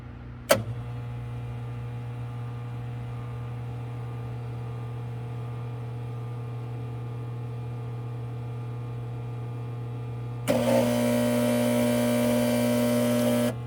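A Frymaster industrial electric fryer with a faulty heat contactor gives a steady low hum after a click. Near the end, a louder, harsh electrical buzz kicks in and holds steadily.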